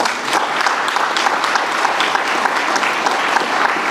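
An audience applauds grantees at a community development grants announcement, with dense, sustained clapping from a crowd that stays steady and fairly loud throughout.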